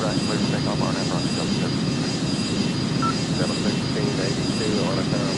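An airliner in the game Airline Commander taking off from a runway, with a steady, loud jet engine roar that holds constant throughout, overlaid by radio-style voices.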